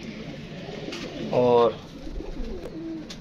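A pigeon coos in a short throaty burst in a loft, with someone talking in Hindi before and after it.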